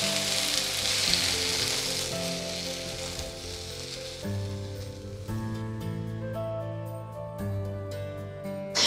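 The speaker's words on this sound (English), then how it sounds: "Now we started to fry. We first fry with the bacon." Bacon fries in a pan beside a traditional Nordic deer meat dish, giving a loud, continuous close sizzle under a steady musical backing with sustained tones.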